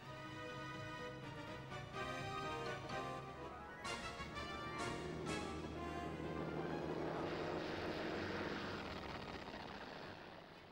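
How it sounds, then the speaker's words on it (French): Japanese WWII propeller warplanes take off from the aircraft carrier Hiryu, a steady droning engine roar that swells and grows louder and rougher toward the end, with no talk over it. "Leurs avions décollent du Hirvu, leur dernier porte-avions."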